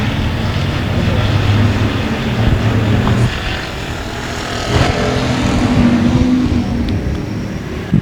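Race cars roar past at a dirt speedway, a loud, continuous engine drone that swells as cars pass close, with a crowd and the track's ambience behind it.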